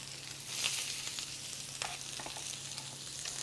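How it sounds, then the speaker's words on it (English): Potatoes hit a hot pan and sizzle in a steady, close, hissing crackle, with a few small clinks of utensils over the frying noise. "Yeah, I hear that sizzle."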